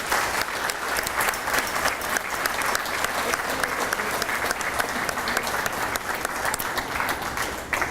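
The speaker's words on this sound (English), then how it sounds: "let's give them another big round of applause" A retiree reception audience claps as a school chamber choir leaves. The applause is a continuous, full and evenly loud spatter of many hands that carries on for the whole stretch.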